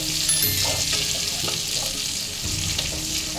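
Bitter gourd pieces frying in a pan for a Bengali shukto, a loud continuous crackling sizzle with faint scraping of a spatula, no voices.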